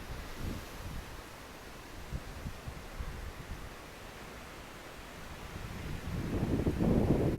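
Wind gusts across a park by a parking lot and picnic area, a steady broadband rush buffeting the microphone that swells louder toward the end.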